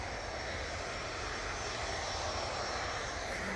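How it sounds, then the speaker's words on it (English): A VistaJet Bombardier Challenger 300 business jet departs Manchester Airport with a steady, even engine roar, a broad continuous rumble and hiss that holds at one level throughout. "Off to Norfolk using the Bombardier Challenger"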